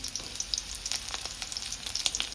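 Mustard seeds, mashed garlic and green chillies fry in hot oil in a pan, giving a steady close sizzle with scattered sharp pops and crackles and no talk.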